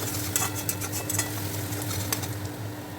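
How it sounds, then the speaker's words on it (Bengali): Chopped onions frying in a pan to turn golden for a home-made small potato dum, giving a steady soft sizzle with occasional light clinks and stirring taps of a utensil against the pan. "পেঁয়াজটাকে আমি সোনালি করে ভেজে নেব।"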